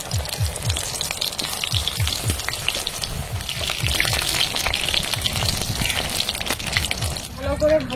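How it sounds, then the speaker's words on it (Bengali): Gram-flour battered flower pakoras bubble and crackle in hot oil, a close, busy sizzle with popping bursts, and a voice talks over part of it. "তেলটা গরম হয়ে গেছে, এইবার বেসনের মধ্যে ঝাঁকিয়ে তেলের মধ্যে ছেড়ে দেব।"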